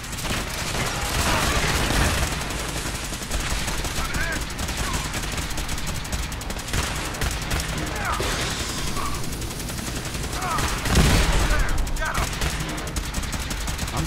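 Rapid gunfire from a Fallout 4 firefight crackles in dense, overlapping bursts for the whole stretch, with heavier booms and a voice talking over the shooting.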